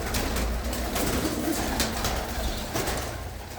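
A pigeon coos in a continuous low warble that goes on throughout, near and moderately loud, with no voices.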